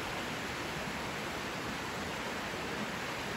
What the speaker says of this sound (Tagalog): Tignan niyo yung agos ng tubig. Medyo malakas.